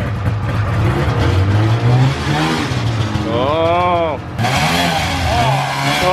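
A snowmobile engine, newly fitted with a replacement fuel pump, runs with a steady buzzing drone. People talk over it at close range.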